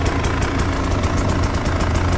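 A KTM EXC 300 two-stroke enduro motorcycle idles loudly and close, its steady rapid popping pulse running on without a break.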